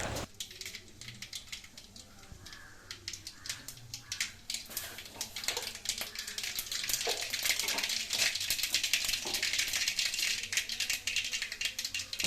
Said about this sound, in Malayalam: എണ്ണ ഒന്ന് ചൂടായി വരുമ്പോൾ നമുക്ക് കുറച്ച് കടുക് ഇട്ട് കൊടുക്കാം